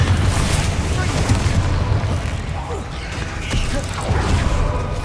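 In Hogwarts Legacy, a Confringo fire spell explodes amid battle, loud low booms and rumbles rolling through with creaking mechanical game noises and a few sharper bursts layered over the din.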